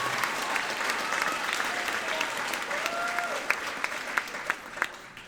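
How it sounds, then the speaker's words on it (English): Audience applause at a middle school popular music concert, dense clapping from a crowd filling the room steadily, with a few sharper individual claps standing out toward the end. "Give them a round of applause."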